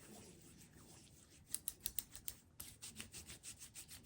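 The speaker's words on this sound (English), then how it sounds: "First I'm going to sanitize my hands." Hands rubbed together with sanitizer before an injection, a soft quiet friction with a short run of faint rhythmic strokes in the middle and steadier rubbing continuing, no talking.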